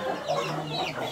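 A rooster clucks in short, close bursts over a steady low background hum, with no other voices present.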